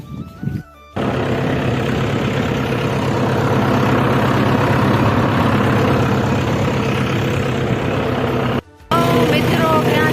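A tractor engine idles and runs steadily on a farm field while fodder is loaded into the trailer behind it, a constant low rumble broken by a brief cut near the start and one near the end.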